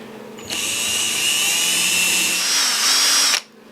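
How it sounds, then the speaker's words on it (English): A hand drill bores a hole through a thin acrylic panel, giving a steady high whine that lasts about three seconds and then cuts off abruptly, close up with no talking. "This is a pretty thin piece of acrylic, so I'm just going to use a hand drill"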